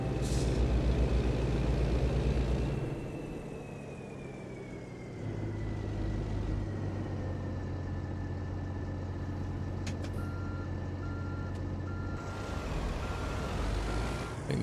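Truck pulling a long trailer through a tight manoeuvre in the Oregon map of a trucking simulator: steady diesel drone, hissing air-brake releases and a regular electronic reversing beep, all close and clear with no talk.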